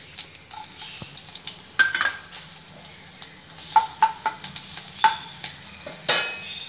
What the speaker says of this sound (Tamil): எண்ணெய் ஊற்றிட்டோம், கடுகு போட்டாச்சு